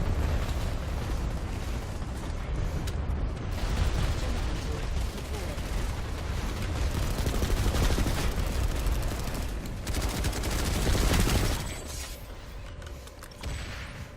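Rapid turret machine-gun fire in a video game, dense continuous bursts with mechanical clatter that break off near the end, loud and close, no speech over it.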